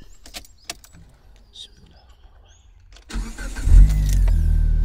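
A Proton Exora CPS with a newly replaced fuel pump cranks and fires up after a few quiet clicks and rattles, then settles into a steady, loud idle close by.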